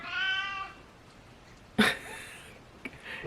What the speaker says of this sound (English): This cat is about to get thrown outside.